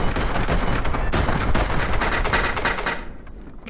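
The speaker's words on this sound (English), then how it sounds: "That gun is one of the faster shooting M4s" Rapid automatic fire from an M4 rifle in PUBG, a fast continuous burst of shots for about three seconds before cutting off and fading, with no talk.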